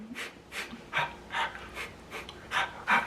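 Rhythmic, heavy panting labor breaths, about eight quick exhalations in steady succession, close and fairly quiet with no talking.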